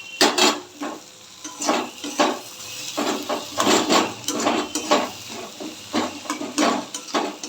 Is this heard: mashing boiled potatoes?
yes